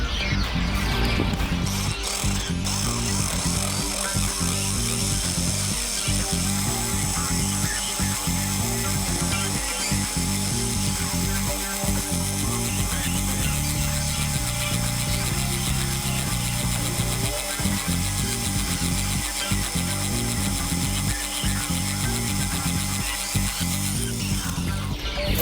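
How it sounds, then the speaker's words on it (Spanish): A small drill bores a pilot hole to mark the mounting point for a fender mirror on a car, a steady whirring grind with rhythmic pulsing bursts running nearly continuously, close and loud. "Vamos a marcar primero con el taladro pequeño"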